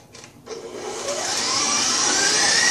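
An electric mixer creams butter with about a cup of sugar for French madeleine batter. After a brief quiet start, the motor kicks in with a steady, close whir that grows slightly louder and fuller, with no talking.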